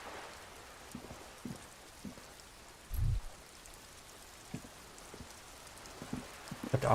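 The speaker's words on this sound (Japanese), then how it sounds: "だって雨降ってるよ、今。" Steady rain falls in the video game Disco Elysium, a soft continuous hiss with scattered droplet taps and one brief low thump, heard alone at low volume.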